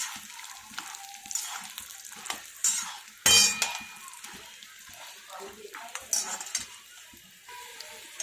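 Peanuts frying in hot oil in a kadhai, a soft crackling sizzle with occasional spoon clinks and one sharp clatter, heard close under a speaking voice.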